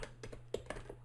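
Typing names into a computer keyboard, heard as a few scattered, fairly faint key taps over a steady low hum, with no voices.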